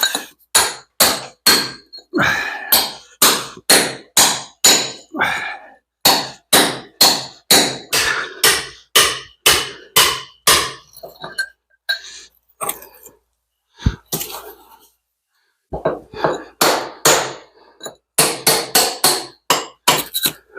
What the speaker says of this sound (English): The old hammer and chisel. Let's turn it on.